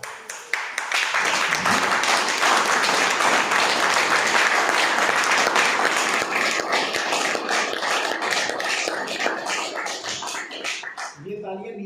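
Sustained audience applause and clapping at a network-marketing training session, loud and continuous for nearly twelve seconds, thinning slightly toward the end, with a few voices mixed into the crowd noise.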